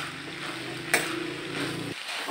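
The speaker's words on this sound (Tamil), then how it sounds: "நம்ம எல்லாத்தையும் போட்டு ஃபைனலாக மிக்ஸ் பண்ணிடல, கொஞ்சம் மீடியம் ஃப்ளேமில் வச்சுக்கலாம்" Cowpea sundal with grated coconut being stirred in a pan over a medium flame, a soft scraping and sizzle, close and moderately loud, with a brief sharp clink partway through before the sound cuts off.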